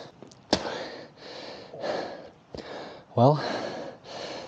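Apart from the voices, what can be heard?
heavy breathing while hiking uphill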